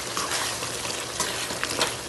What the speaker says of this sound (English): put a little bit of water in it